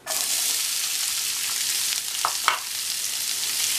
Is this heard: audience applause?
no